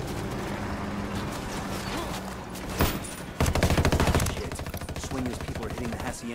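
Gunfire from the video game Ghost Recon Wildlands crackles in rapid bursts, including a dense fusillade around the middle, over a busy backdrop of game sounds.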